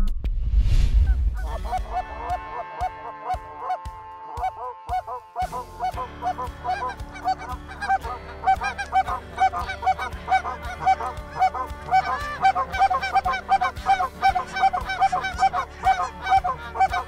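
Canada geese honk repeatedly during a goose hunt in Saskatchewan, a dense overlapping chorus of calls from a large flock, loud and continuous after a brief low thump at the start.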